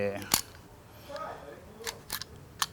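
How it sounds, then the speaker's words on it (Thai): Metallic clicks and snaps from an all-steel CZ Shadow 2 pistol being cleared, a few sharp separate clacks close up, with faint handling noise between them. "เคลียร์ปืนก่อนนะอ่ะโอเค"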